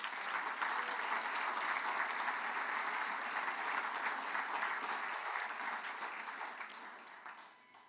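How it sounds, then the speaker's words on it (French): A banquet audience at a francophonie dinner in Prescott and Russell applauds Jean Poirier with loud, sustained clapping from a large crowd, holding steady before tapering off in the last second. "Je vous invite à l'applaudir aussi."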